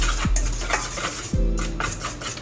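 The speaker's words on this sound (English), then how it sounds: "you're gonna whisk it and mix it all up with your whisk" Whisk scraping and clinking against a bowl while mixing dry banana nut bread ingredients, two brisk bursts of rattling strokes close by with no talk.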